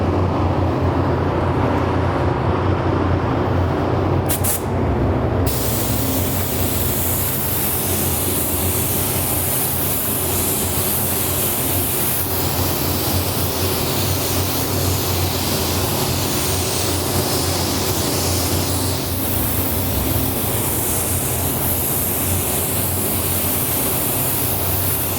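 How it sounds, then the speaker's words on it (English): A paint spray gun lays down candy paint for hot rod flame graphics, a loud, unbroken hiss that starts after a brief click and runs on for about twenty seconds. "So I'm going to get ready to spray."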